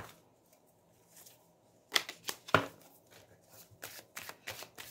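Tarot cards are handled quietly at first, then a run of crisp riffle-shuffle snaps and slaps sounds up close, followed by softer card flicks and taps in uneven bursts.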